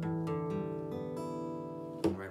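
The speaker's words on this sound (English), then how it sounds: "Just make sure your guitar's in standard tuning." Guitar strings plucked one after another in standard tuning, each note ringing and sustaining into the next, with a brighter final strum near the end, played alone and close.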